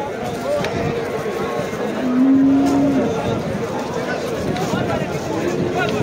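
Cattle at a livestock market in Piskent, Tashkent region, with one cow giving a single loud low moo amid a busy murmur, while people talk nearby throughout.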